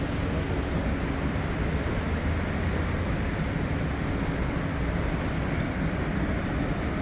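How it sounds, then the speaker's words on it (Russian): Steady rushing water of the Yesentai river in Almaty, a dense broadband roar that holds constant and fairly close for the whole stretch with no voices over it. "Вот, слышь, как шумит вода здесь?"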